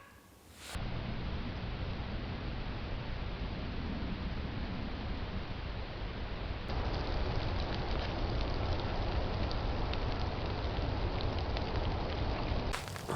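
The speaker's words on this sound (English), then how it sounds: "Didn't know it was supposed to rain." Steady overnight rain falling in a forest, a dense, continuous patter that fills the whole stretch and grows slightly heavier partway through, with no voices.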